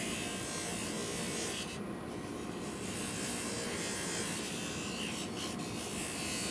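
Dental lathe polishing a clear acrylic duplicate with pumice, a steady dense rasping whir that holds close and loud throughout with brief lighter scrapes as the piece is worked.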